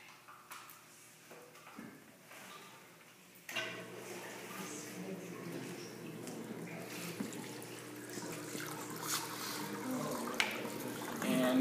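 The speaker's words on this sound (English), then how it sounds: "While these different compartments of the fountain are filling up" Water pours steadily into the compartments of a garden fountain being set up, a soft trickle that swells into a fuller, continuous splashing rush partway through and keeps going.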